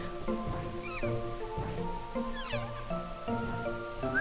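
A Meow Wow dream eater creature from the Kingdom Hearts video game mews in short, repeated cries over steady game music, quiet and continuous throughout.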